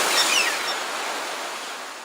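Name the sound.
waves crashing against the shore in a Kiarostami film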